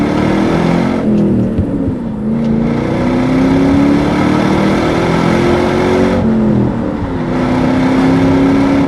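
A 2003 Ford Mustang GT Centennial Edition with a 4.6-litre V8 and five-speed manual accelerates on a test drive, its loud engine droning and rising in pitch, with two brief dips where gears shift.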